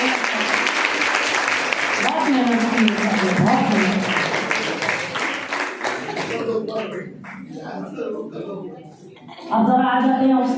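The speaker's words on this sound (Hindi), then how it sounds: "तालियां बजाओ" Clapping from an audience at a college appreciation ceremony, dense applause at first that tapers into scattered claps while someone talks over it, then speech resumes clearly.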